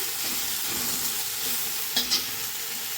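Tomato and ginger fry in a pan with a steady hiss while being stirred, with a couple of brief scrapes of the spatula near the end.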